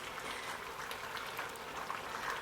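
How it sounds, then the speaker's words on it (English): A pot of Cameroon egusi soup simmers on low heat, giving a steady, soft bubbling and popping close by with no talk. "Allow this to boil for approximately 10 to 15 minutes on low heat again"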